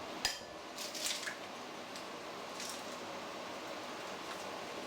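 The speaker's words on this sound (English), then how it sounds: "I've got 2 eggs which I'm going to put in the bowl" Two eggs going into a bowl, heard as a sharp clink near the start and a couple of lighter taps about a second later, followed by quiet kitchen room tone.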